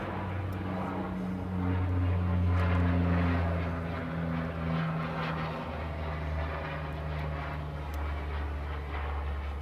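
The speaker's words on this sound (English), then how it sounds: "I live over here by Fort Bliss in El Paso, Texas, so we get a lot of military aircraft." Military aircraft passing over near the Fort Bliss airfield in El Paso, Texas, a steady droning engine hum that swells in the middle and then holds, heard alone without talk.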